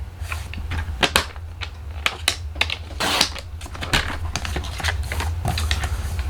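A card mat piece is trimmed to size on a paper trimmer, producing a run of sharp, close clicks and scraping cuts in an irregular rhythm over a low background hum, with no voices.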